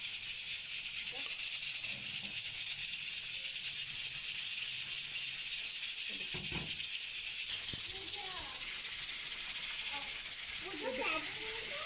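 Onions frying in a pan for a daal chicken dish: a steady, loud bright hiss of sizzling oil throughout, with a few faint bumps and clatters beneath.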